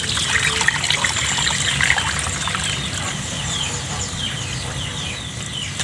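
Glutinous rice being rinsed in water for suman sa lihiya, a steady close trickling and sloshing that runs throughout, with a faint rooster clucking in the background.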